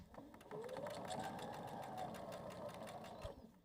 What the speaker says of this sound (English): let's take this to the machine and sew those together